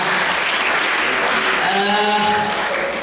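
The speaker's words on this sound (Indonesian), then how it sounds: "Tepuk tangan untuk kita semua ya." A crowd at a book launch for a work on pedagogy and curriculum claps in steady, loud applause that fills the whole stretch, with a faint voice underneath.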